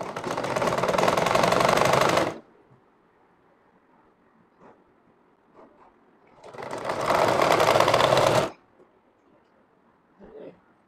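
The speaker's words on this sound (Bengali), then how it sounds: "বর্ডার সেলাই দিয়ে দিচ্ছি বন্ধুগণ" A sewing machine stitches the border of a frock in two loud, close bursts of fast steady running. Each lasts about two seconds, with quiet pauses and faint handling noises between them.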